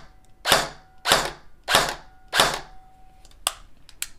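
An airsoft AEG rifle with a standard motor on a 7.4V LiPo battery, unloaded, firing four evenly spaced sharp single shots, then a couple of quicker quieter ones, loud and close with no talking.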